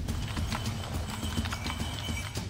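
A horse's hooves clip-clop in a quick, steady rhythm, close and fairly loud, from a horse ridden all the way to Bucharest, Romania.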